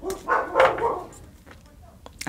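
Neighbours' small dogs bark and yap in a few short bursts nearby, with indoor handling noise around them.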